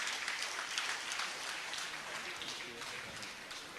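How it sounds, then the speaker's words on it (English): Audience applause at a Rotary District installation ceremony, a steady broadband patter of many hands sustained throughout at moderate level, with some voices faintly underneath. "Please give them a big round of applause."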